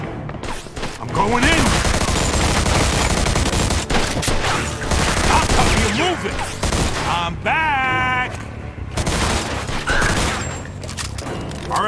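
Sustained video-game gunfire from a Mafia II shootout, dense bursts of automatic fire rattling almost continuously and loud throughout, with shouting voices mixed in and a brief lull near the end before the shooting resumes.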